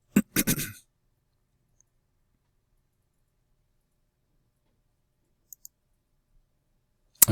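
Computer mouse clicks in Word: a quick cluster of sharp clicks at the start, a faint double click midway, and another click at the end, with near silence between them.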